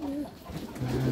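Domestic pigeons at an American breed pigeon farm give low, throaty coos, close and moderately loud, with a muffled voice murmuring in the background.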